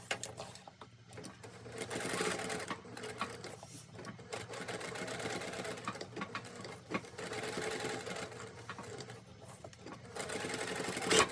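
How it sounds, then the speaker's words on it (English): A sewing machine stitches an envelope snap pouch, its fast needle chatter running steadily close up in several bursts with brief pauses between runs. "I'm going to stitch across the bottom and up and back around"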